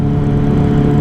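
A 2008 Yamaha R1 1000cc motorcycle engine held at a steady, loud drone, a continuous near hum with little change in pitch and no voices.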